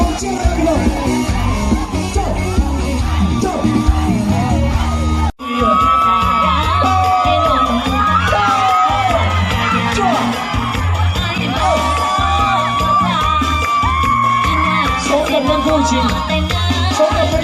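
A large outdoor crowd cheers, whoops and shouts continuously at a Thai rice merit festival in Nam Phong, with children's voices among them. The noise is loud and dense, with a brief cut near the start.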